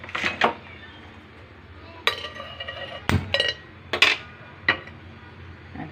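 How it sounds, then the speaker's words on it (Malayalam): A metal pan set down on a kitchen stove while cooking chilly paneer and fried rice, a few sharp clanks and clinks spaced apart over a quiet background. "നമുക്കിനി തീ കത്തിച്ച് പാത്രം വയ്ക്കാം"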